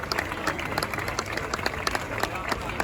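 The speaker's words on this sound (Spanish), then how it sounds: "Un fort aplaudiment pel Marc." An audience at a Louis Vuitton Cup sailing event in Barcelona applauds a guest coming on stage, brisk, crackling hand claps with sharper individual slaps standing out, sustained across the whole stretch amid some crowd murmur.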